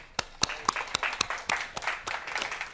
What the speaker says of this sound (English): thank you for launching the applause